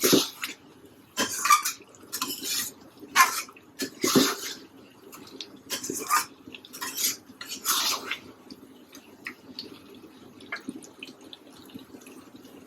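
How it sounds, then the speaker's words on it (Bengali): Cooked duck curry is scraped and transferred from a pan into a pressure cooker, giving repeated bursts of metallic scraping and clanking separated by short quiet gaps, moderately close. "কষায়ে প্রেসার কুকারে ঢেলে দিব"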